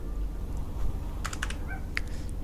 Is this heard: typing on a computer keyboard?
yes